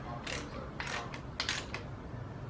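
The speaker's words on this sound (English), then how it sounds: "I'm just snugging these up yet. I'm not torquing them. Just run them all down." Ratchet wrench running bolts down snug on a 350 Chevy engine, close mechanical clicking in short bursts separated by brief pauses.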